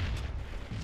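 A grenade blast in Halo 3 multiplayer, a dense, loud, rumbling boom that fills the whole short moment, heavy in the low end with no pause or decay.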